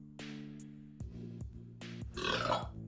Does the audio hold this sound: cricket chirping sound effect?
no